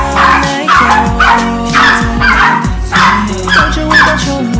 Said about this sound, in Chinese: 这是我可爱的小奶狗